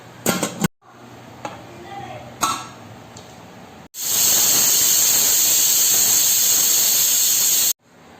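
Mutton simmering for a Kerala-style roast in a covered pot gives off a loud, steady steam hiss lasting several seconds, preceded by brief clattering and soft sounds.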